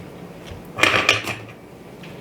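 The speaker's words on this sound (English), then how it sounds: "you can kind of break it apart a little bit on this corner of your counter" Homemade honey toffee with chocolate snapped apart against a kitchen counter corner: two quick, sharp cracking snaps close by in the middle of an otherwise quiet moment, without talk.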